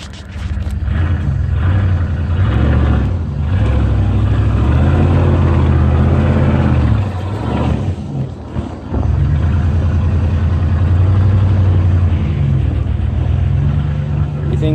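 A Dodge 1500 pickup drives in four-wheel drive, its engine a loud, steady low drone that rises and falls in pitch as it pulls, under faint talk.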